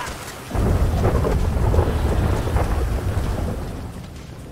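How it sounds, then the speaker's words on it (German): Heavy rain pours steadily with deep rolling thunder rumbling underneath in the video game GTA V, a dense, loud wash of storm noise that swells after a brief quieter start. "Alter, es regnet so krass."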